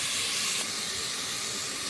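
Onion pieces frying in a couple of spoonfuls of hot oil hiss and sizzle in a steady, loud, close spray of sound that barely changes, with a faint scrape of stirring.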